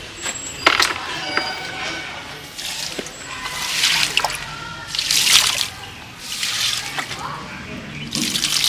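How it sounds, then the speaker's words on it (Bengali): Water from a motor-fed pipe splashing onto potted plants in a sunny garden, coming in irregular bursts of splashing and trickling with small knocks and clatters between them, close and moderately loud. "জল দিয়ে দিই গাছগুলো।"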